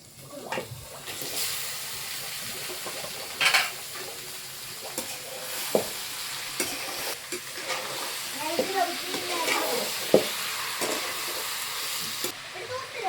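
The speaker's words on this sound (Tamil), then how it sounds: "அடுத்து நம்ம சிக்கன்லாம் போடுங்க" Chicken pieces sizzle in a pan of frying spices with ginger, with a constant hiss and scattered scraping, clinking stirs of a spoon. Faint talk comes through now and then.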